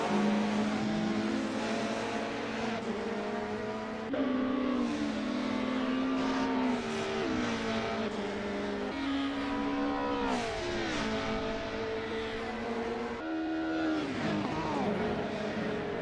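Race cars in a Satcar Revival sim racing game, including an Alfa Romeo and an Aston Martin, with engines droning and shifting pitch steadily across the whole stretch as they accelerate and change gear, loud and constant.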